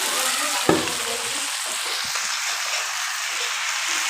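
Local chicken curry frying in a pan gives a steady, loud, close sizzle, with one sharp utensil clink early on as it is stirred.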